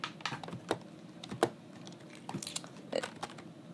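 Computer keyboard typing during gameplay, a scatter of light clicky keystrokes in uneven short bursts, fairly close and quiet with no talk.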